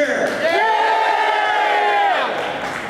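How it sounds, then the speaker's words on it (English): A conference audience of administrators at IBM Connect 2013 cheers and whoops loudly as one sustained roar of many voices that fades slightly at the end. "Who here is an administrator? Cheer!"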